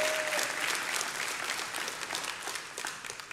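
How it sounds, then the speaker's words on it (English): A live audience breaks into sustained applause with scattered cheering, dense clapping filling the room at a steady, fairly loud level throughout. "is that the biggest cheer you've ever had?"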